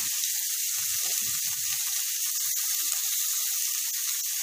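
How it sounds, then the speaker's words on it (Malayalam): Three chopped onions with salt sauté in a hot pan for Kerala-style chole bhature, giving a steady close sizzle with a few soft stirring knocks near the start and no talk. "ഇത് നന്നായി വഴറ്റി ഗോൾഡൻ ബ്രൗൺ ആവുന്നത് വരെ നമുക്ക് വഴറ്റിയെടുക്കണം"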